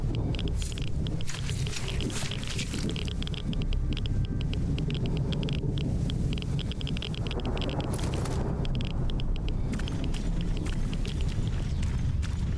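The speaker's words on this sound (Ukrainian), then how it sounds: "Дощ посилився, ще й гроза почалася." Steady heavy rain hisses and rumbles throughout in the video game S.T.A.L.K.E.R. Anomaly, a dense broadband wash with deeper low thunder rumbling, continuous and loud with no voices.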